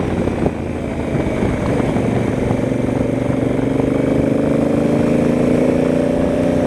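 A 2016 Honda Africa Twin motorcycle engine pulling on a ride, a loud, close mechanical drone whose pitch climbs steadily as the bike accelerates, with no voices.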